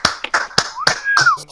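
A few loose hand claps, sharp separate slaps at an uneven rhythm, close by, mixed with a brief vocal sound and some background noise in a podcast setting.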